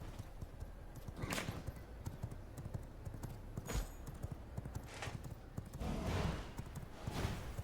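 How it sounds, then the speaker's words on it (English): Steady rhythmic clip-clop of horse hooves at a quick pace in the video game V Rising, continuous throughout with a few louder thuds mixed in. "hop on our horse"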